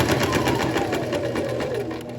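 A sewing machine runs fast and steady along a shirt seam, its rapid even stitching rattle loud and close from start to finish.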